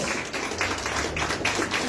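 A church congregation claps in praise of the Lord, a steady, dense patter of many hands with a loose rhythm, filling the room continuously and fairly loud, with no voices standing out.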